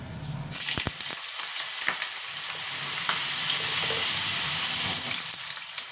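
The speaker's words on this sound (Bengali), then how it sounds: "তেলটা গরম হয়ে গেছে। এবার আমি আলু ভাজার জন্য দিয়ে দেবো।" Potato pieces drop into hot oil with a sudden loud sizzle that settles into a steady, close crackling fry.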